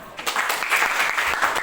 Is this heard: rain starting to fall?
no